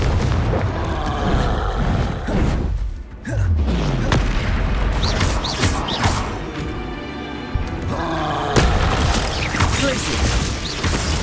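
Confringo explosive spell cast in Hogwarts Legacy, heard as several booming magical blasts and crashes amid continuous game effects and a voice, loud and close throughout.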